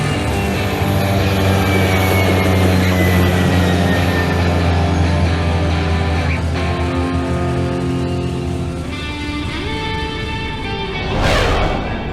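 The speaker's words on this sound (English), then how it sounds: "let's fly in some airplanes and watch them dive into the clouds." A toy airplane is flown by hand while a steady airplane engine drone hums throughout, loud and constant, with a brief whooshing swell near the end.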